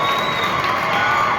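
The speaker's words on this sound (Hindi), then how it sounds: "भरपूर तालियां इनके लिए दी।" A crowd at a gathering honouring guest ustads bursts into loud, continuous cheering and shouting that fills the whole brief moment without a break.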